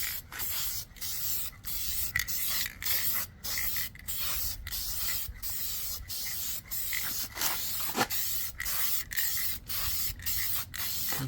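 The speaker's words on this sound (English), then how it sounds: "same thing, kind of just go along, spray everything in, all the finishing touches" Repeated bursts of aerosol spray hiss in short, rhythmic pulses close up while finishing a car's starlight headliner, with brief pauses between each spray.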